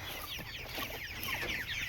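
Broiler meat chickens kept in chicken tractors on a farm cluck continuously at close range, with many overlapping birds producing a steady, busy chatter and no talking.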